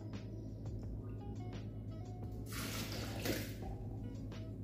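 A can of milk is poured into a blender holding whole-kernel corn for a creamy filling, making a brief rushing, splashing gush that swells and fades over low kitchen hum.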